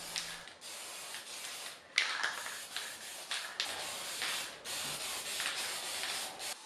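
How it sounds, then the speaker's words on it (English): Watco lacquer is sprayed from an aerosol can onto painted dresser hardware, a close continuous hiss broken into several bursts of a second or so with brief gaps between passes. "Now I'm using Watco lacquer. If I spray 3 coats on this, it's going to make the paint stay on this hardware for a long time."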